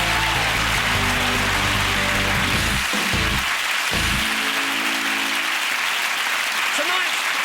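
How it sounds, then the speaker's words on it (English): A studio audience gives a big round of applause for the guests on a television comedy show, with sustained loud clapping that dips briefly midway and then carries on. "big round of applause for our guests tonight"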